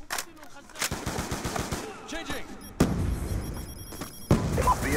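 Rapid automatic gunfire and sharp shots crackle through a Call of Duty: Black Ops 2 multiplayer match, with loud bursts and game effects while a player talks over the action.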